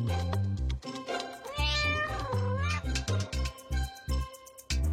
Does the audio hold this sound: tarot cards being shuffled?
no